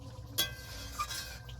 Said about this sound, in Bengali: তেলটা গরম হয়ে গেছে, এখন আমি কালিয়াটা ঢেলে দেবো।